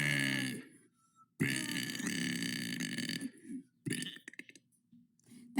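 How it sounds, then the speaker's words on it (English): A person lets out a string of loud, long, croaky burps close up, with short silent gaps between them. "That was day 73 of burping for 100 days."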